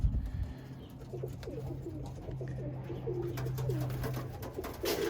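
Birmingham Roller pigeons coo softly in a steady low murmur, with faint bird calls and light background noise throughout.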